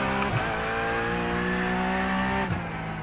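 A race car engine in a sim racing game holds a loud, steady high rev that climbs across the clip, with brief dips near the start and end like gear changes, and no talk over it.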